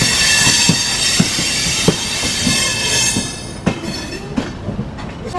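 An Anand Vihar–Ayodhya Cantt Vande Bharat Express rolls past at close range, a steady loud rumble with regular wheel clicks and squealing rail noise throughout and no voices.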